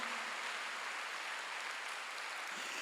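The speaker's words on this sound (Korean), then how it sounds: "박수." A church congregation at a Wednesday worship service applauds, a faint, distant, uniform wash of clapping that holds steady for about three seconds with no clear individual claps.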